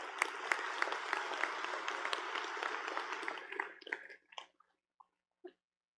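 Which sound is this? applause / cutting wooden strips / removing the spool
applause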